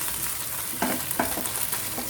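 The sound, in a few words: ginger garlic paste sautéing in a pan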